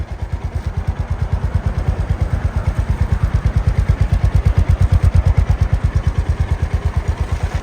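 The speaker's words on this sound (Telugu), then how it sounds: "ఐడిల్లో ఉన్నప్పుడు సౌండ్ అయితే ఇలా వస్తుంది గైస్." Honda CB350C motorcycle idling, its exhaust thumping in a steady, rapid, even pulse that stays loud and close throughout, with no other sounds over it.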